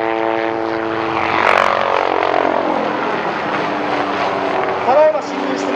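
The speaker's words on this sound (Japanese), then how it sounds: "ただいま侵入してまいりました1機目のヘリコプターは OH6、 2機目はOH-1 と呼ばれる観測ヘリコプターです" Small military observation helicopters, an OH-6 and an OH-1, drone steadily overhead at an army anniversary event, rotors throbbing and pitch shifting slightly as they pass, with faint voices in the background.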